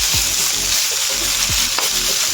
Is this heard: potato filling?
yes